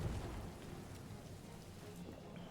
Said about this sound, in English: Okay, it's still raining a bit.